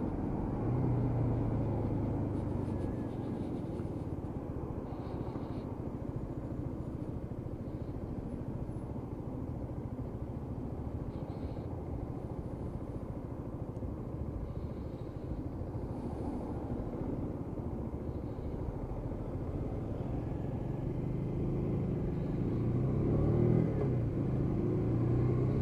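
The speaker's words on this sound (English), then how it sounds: "that little 125 engine just working away below me" A Lexmoto Michigan 125cc motorcycle engine hums steadily while riding in traffic, a low continuous drone with wind rumble and slight swells in revs, heard alone at moderate level.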